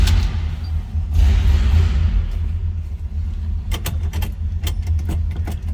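A 1965 Chevrolet Chevelle Malibu Sport Coupe's V8 idles steadily with a deep low rumble, a brief swell near the start, followed by light clicks and jangles like keys over the running engine.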